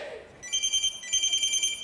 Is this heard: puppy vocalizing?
no